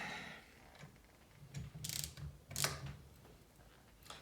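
A ratchet tightens the clamp bolts on the handlebar risers of a 2021 motorcycle. It makes close, irregular bursts of quick clicking and metallic scraping with short pauses between strokes, and nobody speaks.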